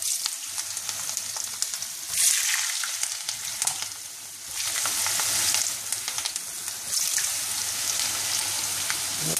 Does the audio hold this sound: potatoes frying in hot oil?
yes